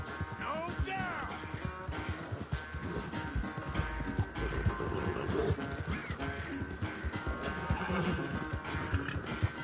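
A horse in Red Dead Redemption 2 neighs and whinnies with galloping hoofbeats close by, while a voice talks over the sounds.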